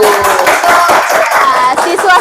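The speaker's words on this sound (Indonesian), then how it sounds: "Tepuk tangan dulu." Audience applause from students greeting three guest speakers at a school event, dense steady clapping filling the whole moment with cheering voices mixed in.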